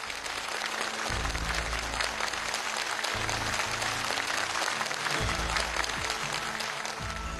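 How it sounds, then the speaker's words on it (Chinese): A studio audience at a televised Chinese idiom competition final claps for a contestant, keeping up a steady wash of applause over a low, pulsing background. "为我们选手的这个诚实鼓掌啊"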